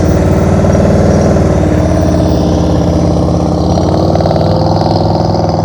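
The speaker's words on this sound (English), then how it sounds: "See how his engine sounds? Perfect. Perfect. That's how the engine should sound." Motorcycle engine at a steady, low-throttle rumble during slow-speed riding practice, loud and close, with the even beat continuing throughout and no talk over it.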